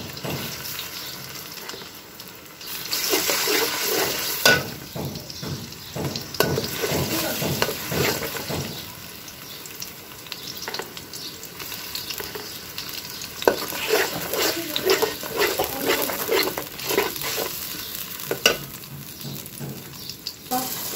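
A blended ginger, garlic and onion paste sizzles in hot oil in a home-kitchen pan while a spoon stirs it in repeated scraping strokes, with a brief run of tap water near the start and no talking.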